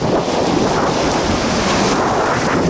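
Steady, loud wind buffets the microphone on a beach by the Sea of Japan near Nakhodka, a continuous broadband roar with a faint wash of surf and no voices.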